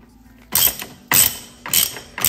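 A screw being turned with a ratchet-like tool on the rear brake pedal pivot of a 2015 Yamaha FJR 1300 motorcycle, giving four loud, close bursts of mechanical clicking and grinding separated by short pauses.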